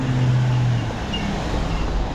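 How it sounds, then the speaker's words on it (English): A large vehicle, likely a bus, rolls along a residential street, its low engine rumble steady and close for a couple of seconds with a brief low drone at the start. "It's a bus."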